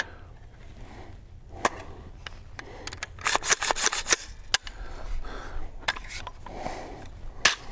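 A brand new rifle fitted with a Monstrum Raven 3X prism scope has its action racked to eject a round, giving a cluster of sharp metallic clacks and clicks, close and fairly crisp over quiet room tone.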